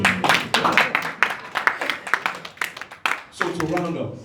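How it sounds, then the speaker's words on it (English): A small audience at a talk on abundance versus scarcity mindset claps in a light, uneven patter, with voices briefly heard over it. "Clap for me."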